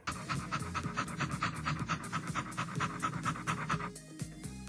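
A dog pants rapidly and steadily throughout, close and fairly loud, over a busy background of music with tonal notes, the rhythmic huffing continuing without pause.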